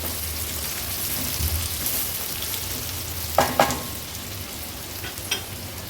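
Two medium onions sauté in oil in a pan for Agri-Koli style chicken pulao, a continuous close sizzle broken by a few clattering stirs of the spoon.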